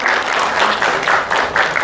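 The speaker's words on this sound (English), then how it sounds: "let's give round of applause for Mr." An audience at the ICCSCI 2018 conference keynote applauds the speaker, a dense, steady round of clapping with slight rhythmic swells, close and loud for the full two seconds.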